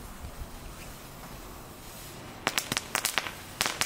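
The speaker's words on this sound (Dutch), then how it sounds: "Kijk hoe deze klinkt." Small, very safe consumer firecrackers go off in a quick burst of sharp, dry cracks and pops, about eight close snaps clustered over a second and a half after a stretch of faint background hiss.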